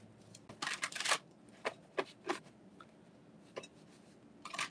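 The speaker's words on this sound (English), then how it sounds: "So let's go ahead and pull some tarot cards." Tarot cards are shuffled by hand in bursts of quick, crisp riffling and flicking, close and fairly quiet, with short pauses between handfuls and a final flurry, without any speech.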